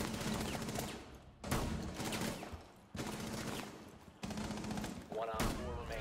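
Gunfire in the Rainbow Six Siege video game, dense bursts of loud shots repeating in several clusters separated by short gaps, with game sounds layered underneath.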